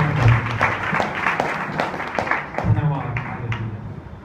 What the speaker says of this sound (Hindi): जोरदार ताली बजाकर हम भाई का स्वागत करेंगे।